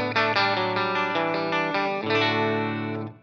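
A clean electric guitar runs through an Origin Effects Cali76 compressor pedal, playing a short run of evenly sustained, bright single notes followed by one held note that fades out, alone and close.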